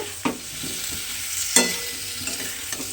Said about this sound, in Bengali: দিয়ে আবারও কিন্তু খুব ভালোভাবে মশলার সঙ্গে আলুটা একটু আমি এইভাবে কষিয়ে নেব।